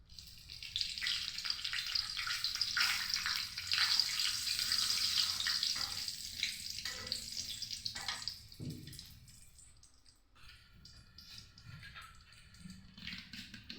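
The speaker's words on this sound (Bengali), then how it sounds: "আর ফোড়নে মেথি আর দুটো তেজপাতা দিয়েছি।" Fenugreek seeds and two bay leaves sizzling in leftover fish-frying oil in a kadai, a steady bright hiss that fades and thins after several seconds into softer crackles, fairly close, with no talk.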